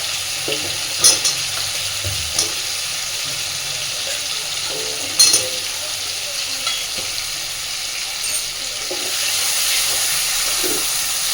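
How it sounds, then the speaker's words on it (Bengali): Fried potatoes drop into spiced masala oil in a pan, a loud steady sizzle and hiss with a few soft knocks of the spoon, the frying growing slightly brighter toward the end. "এবার আমি ভেজে রাখা আলুগুলো এর মধ্যে দিয়ে দিচ্ছি"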